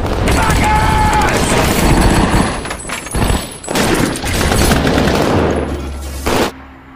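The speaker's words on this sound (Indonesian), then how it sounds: "Alhasil, baku tembak antara perampok dan agen FBI pun dimulai." Film gunfight between robbers and FBI agents: loud, dense bursts of automatic gunfire and booming shots, rapid fusillades with brief gaps and a sudden cutoff at the end.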